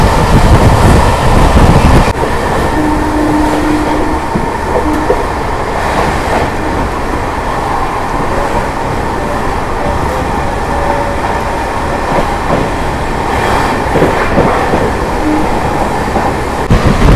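An Amrit Bharat Express train skips Vinnamangalam platform at speed, heard from on board as a loud, continuous rumble with rhythmic clickety-clack from the wheels. Brief squealing tones rise above the roar.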